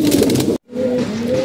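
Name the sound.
old-breed pigeons cooing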